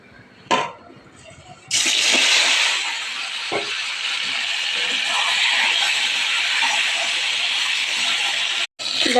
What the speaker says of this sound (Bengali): এবার ডিমগুলো আমি ভেজে নেব এই তেলেই।